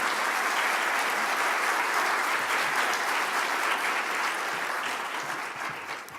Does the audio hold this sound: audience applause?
yes